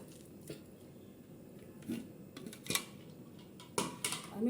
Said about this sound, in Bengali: ভালো করে মাখব আমি